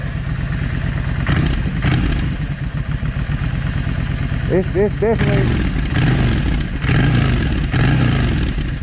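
A Yamaha V Star 650 motorcycle engine idles steadily right after a carburetor sync, a loud, close, even rumble that runs throughout with a few brief chirps near the middle.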